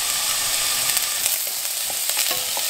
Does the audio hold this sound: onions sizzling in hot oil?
yes